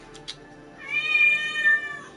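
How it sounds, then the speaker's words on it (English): A cat at feeding time lets out one drawn-out, fairly loud meow with a rising and falling pitch, after a couple of faint clicks. "Keep in mind that Justin's getting ready to feed some cats, so it's gonna get very meowy"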